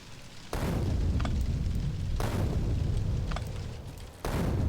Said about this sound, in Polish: Tam jeszcze wszystko wybucha.